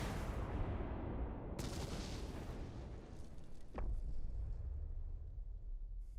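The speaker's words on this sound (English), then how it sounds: "during the aftermath of the explosion" Reactor explosion in Final Fantasy VII: a dense, sustained roar of booming blasts and crackling debris, with a sharp rising whoosh near the middle, loud and continuous throughout.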